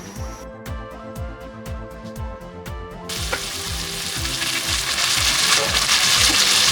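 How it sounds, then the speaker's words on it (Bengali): Bitter gourd dropped into hot oil for a simple fry: a few seconds of quieter tonal rattling with small taps, then a loud, steady hiss of sizzling that builds and continues. "তেল দেওয়া হয়েছে, এখন এর মধ্যে দিয়ে দেওয়া হবে করলা।"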